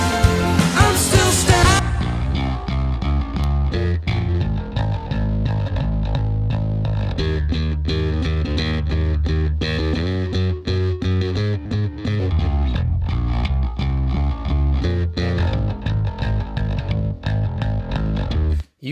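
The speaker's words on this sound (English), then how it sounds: "You can hear how mean and aggressive the bass sounds like by itself" Solo bass guitar soaked in heavy distortion and effects, played alone as a mixing example, with dense gritty sustained notes and rhythmic plucked attacks running steadily and loudly throughout.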